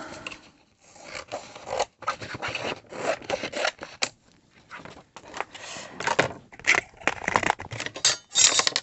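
Scissors cut a piece of glittery craft paper, with a rapid string of close, crisp snips and scratchy paper rustles in uneven bursts, each separated by short pauses.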